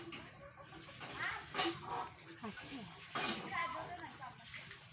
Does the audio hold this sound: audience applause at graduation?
no